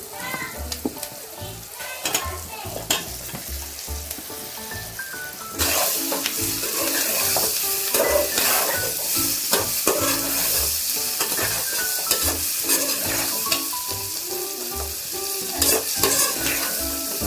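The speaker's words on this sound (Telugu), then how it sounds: "సోరకాయ మంచిగా ఆయిల్లో ఫ్రై కావాలి." Pieces of bottle gourd fry in oil in a pan in a village kitchen, with a steady sizzle that grows louder midway and repeated scraping and stirring clatter throughout.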